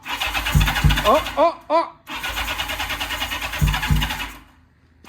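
A Kawasaki SR650 motorcycle being cranked, its engine coughing and popping in short bursts between long stretches of starter whirring, loud and close, with a brief voice exclamation in the middle.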